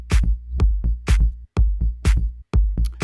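A basic tech house beat built in Ableton plays alone: a punchy kick with a clap and a deep bass pulsing in a steady four-on-the-floor rhythm, loud and clean with short gaps between hits.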